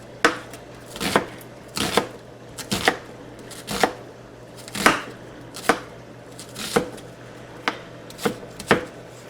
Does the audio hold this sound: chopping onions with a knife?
yes